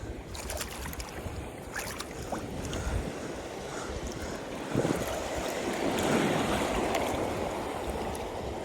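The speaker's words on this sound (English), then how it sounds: "these waves are just so big" Surf on a Florida fishing beach churns and crashes in a continuous loud rush of breaking waves, swelling stronger midway with gusty wind noise throughout.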